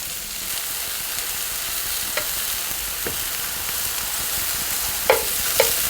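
Pork neck steak sizzles and fries on a Korean barbecue grill, a steady, close crackling hiss broken by a few soft taps of a utensil near the end, with no talking.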